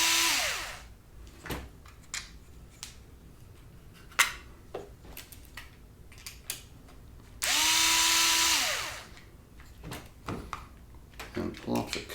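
A power drill unscrews the screws on an Arrma 4x4 3S BLX RC car during maintenance, with two short whirring bursts amid small clicks and handling noises at close range.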